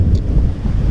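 Wind buffets the microphone outdoors on a cold, snowy day, a low rough rumble that swells and dips over a second, with no talking.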